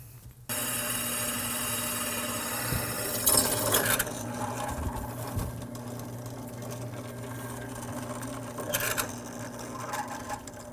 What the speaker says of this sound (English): Okay, now we're going to go ahead and drill it.